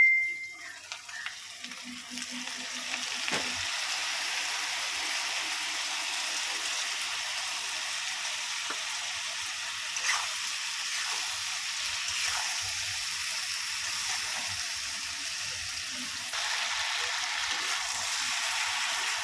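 Spice paste of salt, turmeric, cumin powder, chili powder and a little sugar fries in a pan with a steady, close sizzle that holds evenly for the whole stretch, with faint stirring scrapes early on and no talk.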